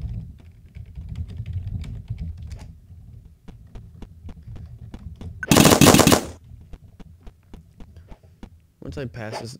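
Rapid rhythmic clicks of paintball guns firing in a paintball video game, evenly spaced shots over a low hum, with a loud burst of noise midway and a voice speaking briefly near the end.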